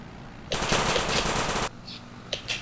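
Rapid automatic fire from an aircraft's guns in a flight video game, a loud sustained burst of about a second with a crackling, evenly spaced rhythm, followed by a few faint clicks.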